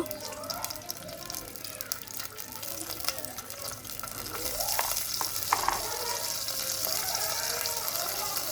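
Spiced curry liquid with onion, turmeric, salt and chili bubbling toward a boil in a pot, for a cauliflower and small fish dish, a steady gurgling simmer with a faint sizzle that swells louder over the second half.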